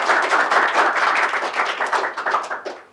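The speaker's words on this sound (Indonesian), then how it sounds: "Tepuk tangan dong." Audience clapping during a lecture on entrepreneurship, a brief, fairly close round of many hands applauding in a rapid, uneven patter that fades out after about three seconds.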